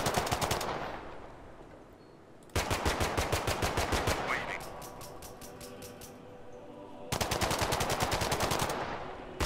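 Rapid automatic gunfire in the video game The Last Haven, loud bursts of closely spaced shots in three long volleys separated by quieter gaps, no talking over them.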